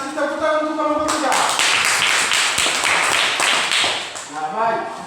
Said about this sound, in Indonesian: Tepuk tangan untuk kamu bertiga.